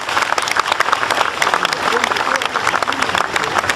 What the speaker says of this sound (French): Merci d'applaudir Paul-Éric qui est là,